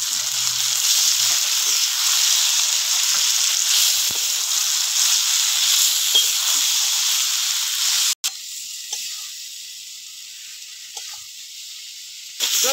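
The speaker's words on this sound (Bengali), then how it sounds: "মশলায় তেল ছেড়ে দিয়েছে, এবার চিংড়ি মাছগুলো দিয়ে দেবো," Prawns sizzle loudly and steadily in oily spiced masala paste, cooking for Bengali chingri macher kalia. The hiss holds close and continuous, with a brief break near the end before it resumes a little softer.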